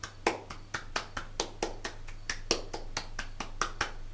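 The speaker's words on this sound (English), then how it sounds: "Everybody applaud yourselves." A single pair of hands claps in a steady, even rhythm, about eighteen crisp claps in four seconds, close and distinct over a faint constant low hum.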